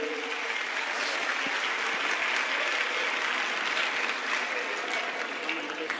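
Loud, sustained applause from a large crowd welcoming a guest onto the stage at a Sanatan Hindu Dharma gathering, even and unbroken throughout.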